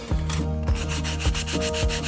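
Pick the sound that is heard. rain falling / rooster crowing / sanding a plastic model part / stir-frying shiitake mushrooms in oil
sanding a plastic model part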